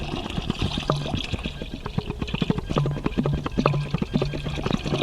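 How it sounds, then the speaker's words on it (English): Hydrogen peroxide pours from a jug into a container holding e-scrap, a close gurgling stream with glugging pulses and bubbling that lasts throughout. "I'm about to add the hydrogen peroxide, just adding it now."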